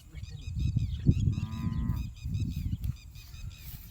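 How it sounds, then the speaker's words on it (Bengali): A quail calls out in an open field, a repeated whistling note standing out briefly over a steady low rumble of wind or handling noise, with no talk. "কোয়ের পাখির ডাক শোনা যাচ্ছে।"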